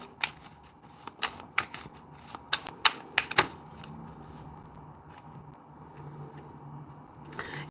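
An oracle card deck being handled and a card drawn: a quick run of crisp, close card snaps and flicks, then a softer lingering rustle over a faint hum.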